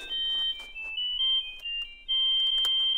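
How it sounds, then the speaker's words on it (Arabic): A telephone rings with an electronic ringtone in short repeated tonal bursts separated by brief gaps, fairly close and clear, with no talk over it. "تليفون يا باشا"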